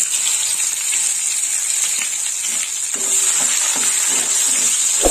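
Chopped onions fry in hot oil for a Bengali prawn and bori curry, a steady bright sizzle with occasional stirring scrapes and clinks in the pan, close and continuous with no talk.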